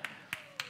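Sparse applause from two people in a church congregation, three quick, sharp claps evenly spaced across a brief moment, faint and close.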